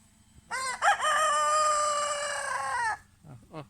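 A single rooster crows loudly and close by, one long drawn-out call lasting a couple of seconds, followed by a few softer clucks.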